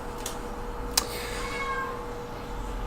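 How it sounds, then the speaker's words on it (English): A house cat yells with a loud, drawn-out meow over a constant noisy background hiss, preceded by a brief sharp click. "my cat is like yelling, literally yelling"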